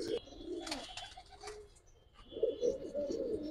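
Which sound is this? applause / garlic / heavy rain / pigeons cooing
pigeons cooing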